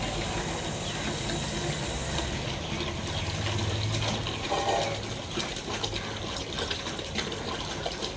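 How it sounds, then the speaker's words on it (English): Tap water pouring steadily into a bucket, five liters filling with a continuous splashing rush that stays even and fairly close throughout, with no voices over it. "Now I am taking 5 liters of water in the bucket."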